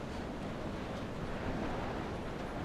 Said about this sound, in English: It's a tad bit windy up here